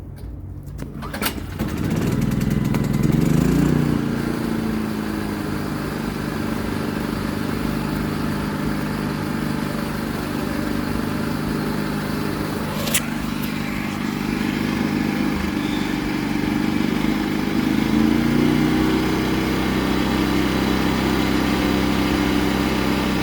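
Firman 3650 inverter generator started up outdoors behind a store, its small engine droning steadily and loudly close by for the whole stretch after a brief start.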